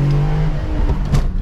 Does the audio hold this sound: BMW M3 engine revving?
yes